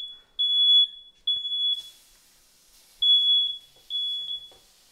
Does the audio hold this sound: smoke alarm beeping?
yes